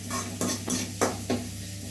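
Vegetables are sautéed in a pan for a summer vegetable kanji, heard as a soft sizzle under four or five regular scraping strokes of a spatula against the pan, with no voices.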